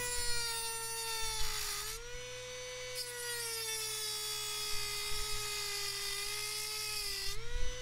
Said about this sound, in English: Now what we're going to do is cut with our Dremel a 1/4 inch, 1/8 of an inch right at the top